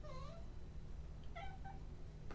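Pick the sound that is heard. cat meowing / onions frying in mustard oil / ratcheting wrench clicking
cat meowing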